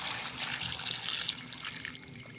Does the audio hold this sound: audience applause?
no